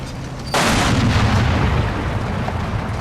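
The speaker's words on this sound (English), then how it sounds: "our most advanced infantry teams start taking fire from enemy machine guns and the enemy Jagdpanzer IV" Enemy machine gun and Jagdpanzer IV tank destroyer fire in the Combat Mission WWII video game: a sudden loud blast starts a dense, sustained roar of gunfire and rumble that continues for several seconds, with no talking.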